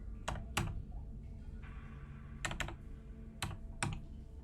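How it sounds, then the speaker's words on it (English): Keys tapped on a computer keyboard while a password is entered during a game, a few separate clicks in small clusters with pauses between them, close and fairly quiet, with no talk. "I pressed the enter button."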